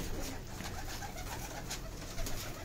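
Pigeons coo steadily in a loft with several breeds kept together, including Kamangar, Golden and Kasuri varieties. The soft, low murmuring runs throughout, close and continuous against a light background hiss, with no talking.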